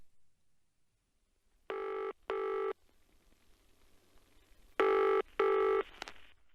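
A telephone rings for an incoming call in two separated pairs of loud, clean electronic bursts, with near silence between the pairs and faint background hiss.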